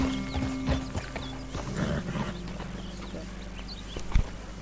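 Horse in Red Dead Redemption 2 at a public stable, with soft hoof clops and a brief snort or whinny over a steady low game ambience, ending in one louder thump.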